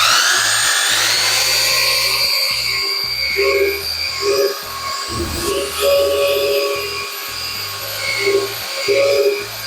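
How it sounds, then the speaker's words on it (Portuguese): A handheld electric mixer churns two bags of construction mortar in a bucket, giving a loud, steady motor whine close by with rhythmic low thumps and grinding as the paddle works the mix. "o misturador de argamassa, eu levei em torno de 2 minutos aqui para bater esses 2 sacos de argamassa"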